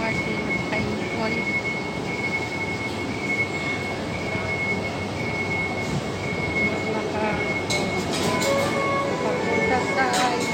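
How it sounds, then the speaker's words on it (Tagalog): Inside a moving MRT metro train in the Philippines: a steady rumble of wheels on track with a sustained high squeal, plus faint voices in the carriage and a few sharp clacks near the end. "Sa loob ko ng MRT, nakainipon."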